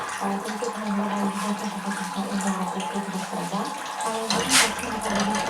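Homemade apple juice trickling and splashing steadily from a press, a continuous wet pouring sound with faint background noise and no speech.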